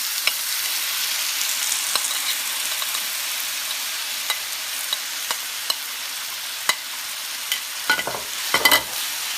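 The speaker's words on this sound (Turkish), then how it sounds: "Tereyağı da eridikten sonra elmamızı ilave edelim" Apple pieces sautéing in melted butter in a pan, a steady soft sizzle with scattered sharp ticks and pops, then a short burst of louder scraping as they are stirred near the end, no voices.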